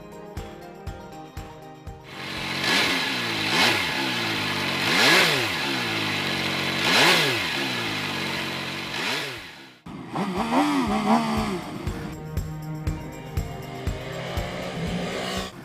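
A 2016 MV Agusta 800 Brutale three-cylinder motorcycle engine revs loudly and close, rising and falling in several sweeping throttle blips before dropping to a rough, throbbing idle, with no talk.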